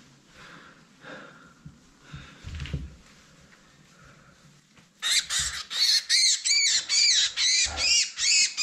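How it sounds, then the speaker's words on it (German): A rescued bird being released lets out a burst of loud, repeated squawks close to the microphone, following a quieter stretch of handling noises and rustling. "Vogel gerettet."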